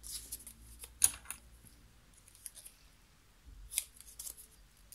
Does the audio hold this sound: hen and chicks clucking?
no